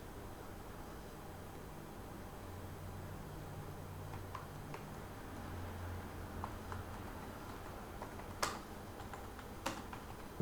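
Keystrokes on a computer keyboard as a tool name is entered in PowerMill 2023 CAM software: faint, sparse clicks over a steady low hum, with a couple of sharper taps near the end.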